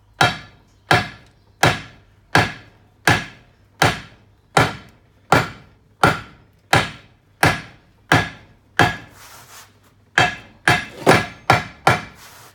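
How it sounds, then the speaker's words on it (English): Lead ballast tiles being flattened with a hammer: about seventeen sharp, evenly spaced metallic strikes, close and loud, with a brief scraping pause before the blows resume faster. "flattening them with a hammer is just as helpful"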